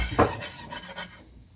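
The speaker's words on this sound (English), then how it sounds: "I'm going to be whisking this for probably the next 10 minutes or so." A whisk scrapes and clinks through a sauce in a pan. The first stroke is louder and is followed by several softer rhythmic swishes that fade out, and no one speaks.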